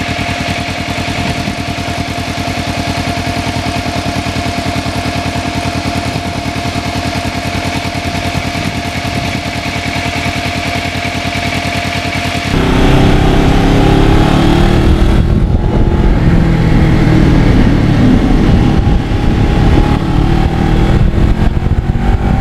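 A Kawasaki Ninja motorcycle ridden on wet roads, a continuous engine drone mixed with broad tyre spray and wind rush that grows louder and rougher partway through, steady throughout.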